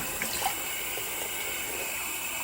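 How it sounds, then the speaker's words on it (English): Room-temperature tap water runs and splashes softly as a face is rinsed at a sink, a faint, steady trickle with small splashes near the start. "I'm going to rinse my face off"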